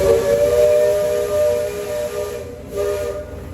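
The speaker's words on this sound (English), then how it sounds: "So that's the halfway whistle." The Liberty Belle steamboat's whistle blows one loud, long, sustained chord-like blast, dipping briefly near the end, with no one talking.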